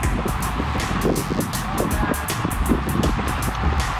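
A car comes up from behind a group of road cyclists on a narrow road with a shoulder, its engine and tire rumble steady and close under heavy wind buffeting on the microphone.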